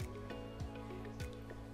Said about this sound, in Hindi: ये गुड़ का जो पानी हमने बनाया है उसे डालते रहें, जिससे कि आटे में गांठ ना हो